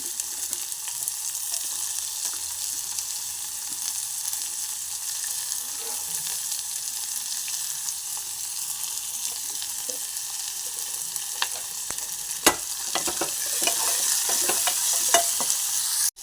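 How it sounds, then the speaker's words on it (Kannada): Chopped onions sizzle steadily in hot oil in a pan for egg biryani, a constant close frying hiss with a few sharp spoon scrapes and clinks of stirring toward the end, with no talking. "ಈರುಳ್ಳಿ ಹಾಕೋತಾ ಇದ್ದೀನಿ."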